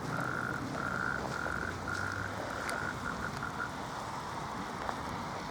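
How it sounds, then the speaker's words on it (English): Frogs croak in a repeated series of short calls near a large pond during a storm in Southport, fairly clear against a constant background hiss. "It sounded like frogs, that."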